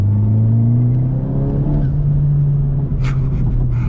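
A 2018 Honda Civic Type R hatchback accelerates hard, the engine note climbing in pitch as it pulls through the revs, loud and close from inside the cabin, then easing off with a brief hiss near the end.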